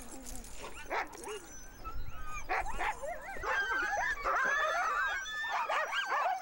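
Sled dogs in Greenland barking, yipping and whimpering at feeding time, a dense overlapping chorus of several animals that grows louder and busier toward the end.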